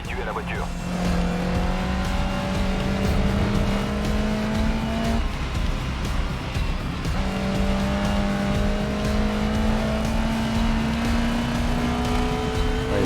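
A race car in GRID Legends drives hard, its engine whining and climbing through gear changes with a brief drop between pulls, tire noise underneath, loud and close while a voice talks over it.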